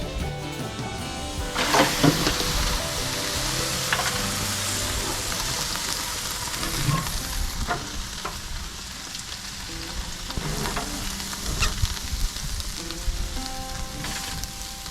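A small whole hog on a smoker sizzles and crackles steadily while being flipped, a dense frying hiss with occasional sharper pops and handling knocks.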